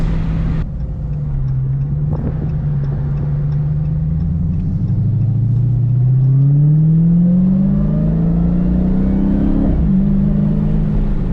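A car accelerates hard, the engine note climbing in pitch through several sharp gear shifts, loud and fairly close, with each shift briefly dropping the tone before it rises again.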